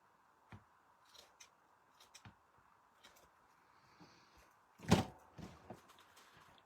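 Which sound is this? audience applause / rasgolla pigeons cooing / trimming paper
trimming paper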